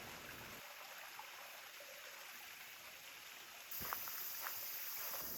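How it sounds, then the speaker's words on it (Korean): A mountain stream flows through a valley on a trekking trail, a steady, soft, broadband rushing of water heard from a short distance, growing slightly fuller near the end, with no voices. "시원한 계곡 소리에 고개를 돌려 잠시 맑은 계곡을 바라봐요."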